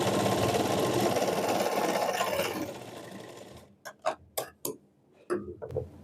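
A sewing machine runs steadily, stitching a half-inch-wide seam along the edge of a lehenga, for several seconds, then stops and gives way to a few sharp, scattered clicks and handling taps.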